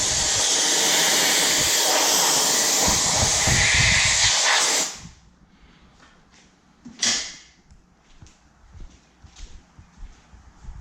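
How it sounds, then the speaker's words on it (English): Compressed air blasts dust out of a Porsche 911 part in a strong, steady hiss for about five seconds, then stops, followed by a short second puff and faint handling clatter. "Use some compressed air to get any dust out."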